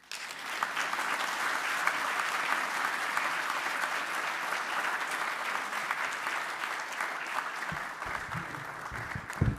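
An audience at an inaugural lecture gives a long, sustained round of applause, dense crowd clapping that holds steady for several seconds before tapering, with a few louder claps near the end.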